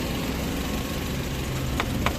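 A 2019 Volkswagen Polo with a 1.6 engine and automatic gearbox idles steadily, a continuous close low hum with no speech over it.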